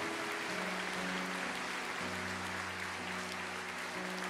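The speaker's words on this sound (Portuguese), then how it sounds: "a igreja aplauda o Senhor" A church congregation claps during a sermon service, soft, steady applause with a sustained organ or keyboard chord underneath, fairly distant and low in level.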